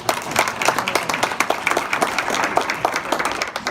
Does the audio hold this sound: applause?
yes